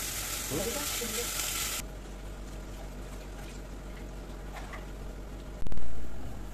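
Onion-tomato paste hits hot oil in a kadhai with loud oily sizzling that abruptly drops to a softer steady frying hiss, with a clunk of a utensil near the end.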